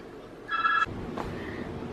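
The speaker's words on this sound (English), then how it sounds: "Oh, the phone's ringing." A short electronic phone ring with stacked bright tones, one burst followed by a fainter second chirp over low room noise.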